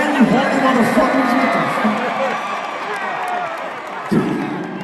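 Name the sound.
concert crowd cheering at Nationwide Arena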